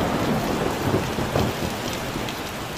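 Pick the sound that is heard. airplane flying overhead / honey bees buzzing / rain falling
rain falling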